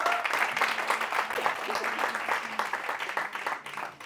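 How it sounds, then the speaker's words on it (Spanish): An audience applauds in a continuous, even burst of many clapping hands, fairly close and sustained for several seconds before tapering slightly at the end. "Un aplauso para Se me lo llevo."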